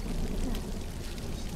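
Steady rush of water pouring like a running shower in The Last of Us, a continuous hiss close and even for a second and a half, with no voices.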